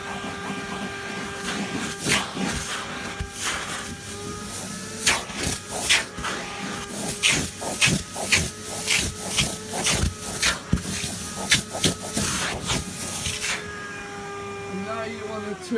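A household vacuum cleaner sucks up water while cleaning, with a rough hissing roar broken by repeated gurgling slurps and bursts, then a pause near the end.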